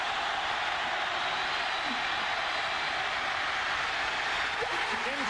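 Stadium crowd roaring steadily at the 1995 Iron Bowl between Alabama and Auburn on a late fourth-down play, a dense continuous wall of cheering and noise throughout, with a few faint whistles near the end.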